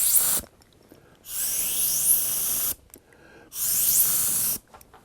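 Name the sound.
spraying paint for a two-tone speckle effect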